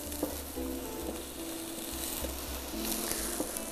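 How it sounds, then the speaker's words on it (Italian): Onion sautéing in hot coconut oil, a soft continuous sizzle with faint stirring and a low hum underneath, quiet and close with no talk. "Quindi l'olio di cocco è già abbastanza caldo. Mettiamo ad appassire la cipolla."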